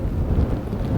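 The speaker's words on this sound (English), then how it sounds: "This weather is picking up. It's kind of back and forth a lot. Comes in gusts basically" Gusty wind buffets the microphone during an Arctic blizzard in a snowbound fishing town, a dense low roaring rush that stays loud and steady through a brief moment.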